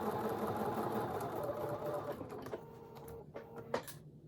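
A sewing machine stitching a mini appliqué wall-hanging quilt, a continuous close mechanical whir that slows and stops near the end with a few clicks, no talking.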